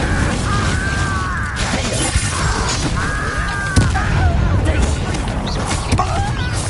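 An Incendio fire spell erupts in a fantasy duel, a rough broadband whoosh and crackling blast under raised voices, with a sharper hit partway through.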